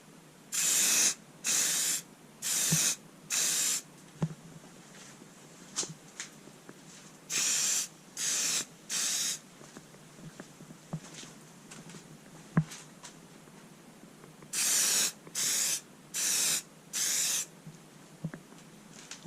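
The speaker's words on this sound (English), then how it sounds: "simply wrap the pan in some spray paint" Clear spray paint sprayed from an aerosol can onto a pan during an impact wrench restoration: a series of short hissing bursts in groups of about four, each lasting under a second, close and fairly loud with quiet gaps between.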